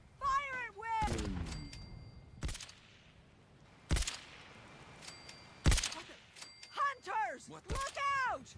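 Gunfire rings out in the Fallout 4 video game as several sharp, loud shots crack out singly and in quick pairs, broken by pauses and sitting among strange warbling, whistling voices.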